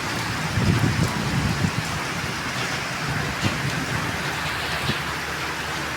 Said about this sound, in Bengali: টিনের চালের শব্দ শোনা যেতেছে